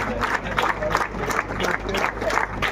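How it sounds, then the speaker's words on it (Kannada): Applause from a crowd at the prize ceremony of a state women's T20 cricket tournament won by the Bengaluru team: dense, steady clapping that holds at an even level throughout, with some voices mixed in. "ಚಪ್ಪಾಳೆಯೊಂದಿಗೆ"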